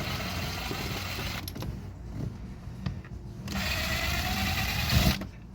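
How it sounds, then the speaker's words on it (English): A power drill removes the screws holding the radio grille on an '87 C4 Corvette, giving a steady, close whirring buzz that briefly dips and pauses before running again. "Alright, grab a drill. The first thing we're going to do is remove this grill."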